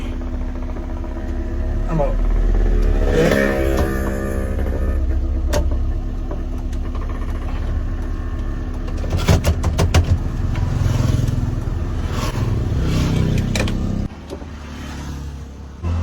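A car fitted with a swapped Baleno engine runs nearby, a loud low engine drone that rises and falls with some rattles and knocks, while someone talks over it throughout before the noise drops away near the end.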